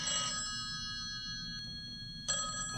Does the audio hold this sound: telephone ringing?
yes